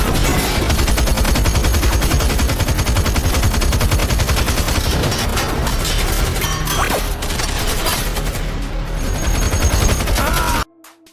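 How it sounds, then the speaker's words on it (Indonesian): Dense, loud gunfire crackles nonstop during a shootout as a gunman sprays bullets at a group getting into a car, and it ends abruptly near the close. "Hill tiba-tiba menghujani tembakan"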